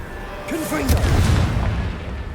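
A Confringo blasting spell cast in Hogwarts Legacy, a short whooshing burst that swells into a booming explosion with a ringing magical tone, heard once amid game effects and a player's voice.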